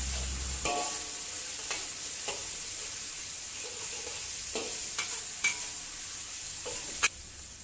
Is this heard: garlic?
yes